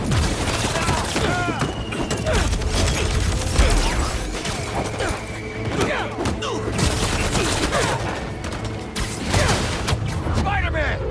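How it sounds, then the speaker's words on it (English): Rapid gunfire rattles through a shootout in the Spider-Man 2 video game, dense overlapping shots and crashes running continuously and loud, with game characters shouting over the battle. "Opening fire!"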